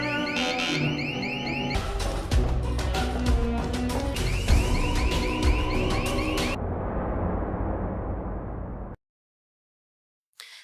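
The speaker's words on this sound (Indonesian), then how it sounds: "Namun ternyata sandinya berbeda sehingga membunyikan alarm." Security alarm set off by a wrong passcode in a Korean drama scene, a loud repeating electronic wail with pulsing tones that stops abruptly, followed by near silence.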